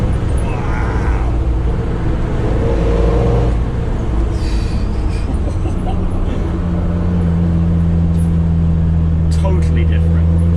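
Land Rover Defender Td5 diesel engine drives and picks up speed, a steady loud drone with a low hum that rises and settles into a sustained tone, with people talking over it.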